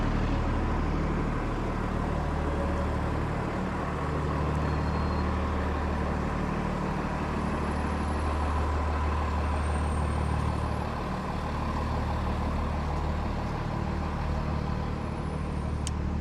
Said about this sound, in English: There's a bus here, it's loud.